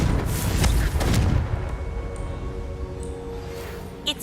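A Confringo blasting-spell explosion in the video game Hogwarts Legacy, a deep rumbling boom that swells early and then fades into a low tail, with faint chimes near the end.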